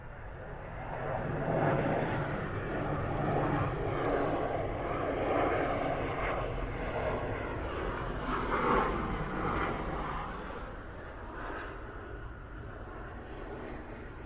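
Airplane at Atlanta airport, a loud steady broadband engine roar that holds for the whole stretch, swelling slightly midway, with faint talk underneath.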